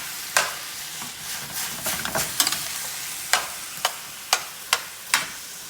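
Squash sautéing with salt in a pan, a steady soft sizzle broken by sharp clicks and scrapes of a utensil against the pan, repeating at irregular intervals with no talking.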